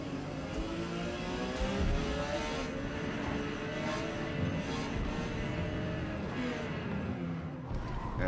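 Porsche 956 race car engine in Forza Motorsport at Mid Ohio during qualifying, a sustained droning engine whine with shifting harmonic pitch that holds loud and steady throughout.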